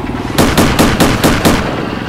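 An autocannon on a German Leichttraktor tank in World of Tanks fires six quick, loud, evenly spaced rounds in a short rhythmic burst, close and alone.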